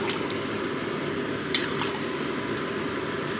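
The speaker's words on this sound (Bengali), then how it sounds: "মোটামুটি ঝোলের সাথে মাংসগুলো মিশিয়ে নিচ্ছি।" Chicken pieces being stirred through a curry gravy in a pan, giving a steady wet squelching and sloshing with faint drips, continuous and close, with no voices.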